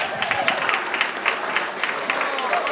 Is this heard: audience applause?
yes